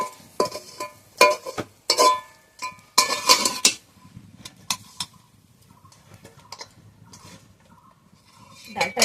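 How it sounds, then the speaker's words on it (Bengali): Dry masoor dal mixture tumbles out of a pan in a few short bursts, metal scraping and clattering against the cookware, then quieter rustling before a final clink. "এবার আমি ডালটা ঢেলে নেব।"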